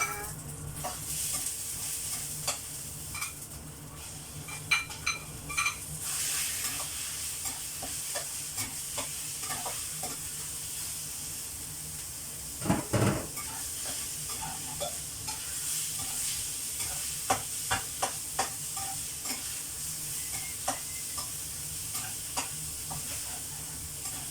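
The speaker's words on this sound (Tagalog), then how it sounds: "So, ngayon, igisa ko na siya." Mincemeat for pancit bihon sautés in a pan with a faint continuous sizzle, broken by scattered spatula scrapes and knocks, one louder clatter near the middle.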